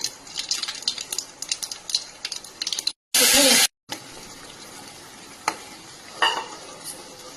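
Mustard seeds frying in hot oil for paneer masala, a close crackling sizzle with scattered pops and stirring clatter, broken by a brief loud burst midway before the frying resumes.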